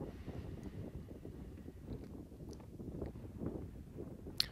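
Wind blows across an outdoor golf course at Metamora Fields, a faint, low gusty rumble buffeting the microphone, with a brief sharp tap near the end.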